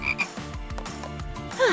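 A toad croaks in a few short, throaty pulses close by, with a brief higher squeak at the end and no talking.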